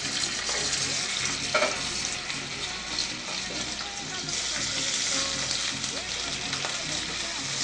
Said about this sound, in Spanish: es el momento de adicionar nuestras ancas de rana, a las cuales le vamos a poner un poco de sal y vamos a sellar